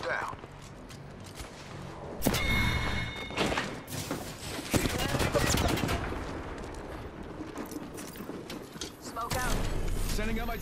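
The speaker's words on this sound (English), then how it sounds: "Shots fired. They're hitting me." Rapid bursts of gunfire in the Apex Legends video game, repeated volleys and single shots with thumps and in-game impacts, loud and dense throughout, mixed with game effects and character voice lines.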